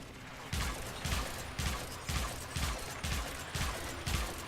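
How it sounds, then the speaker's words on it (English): Cerberus Prime semi-automatic gunfire in the video game Warframe: seven evenly spaced loud shots, roughly one every half second, each a punchy low thump with a bright crack. "I can get quite a bit of shots off with the Cerberus Prime, at least"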